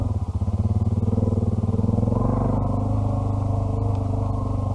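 Africa Twin and DR650 motorcycles riding along a forest track, a close, steady, pulsing engine throb from the rider's own bike with a shift in tone partway through, and no talk.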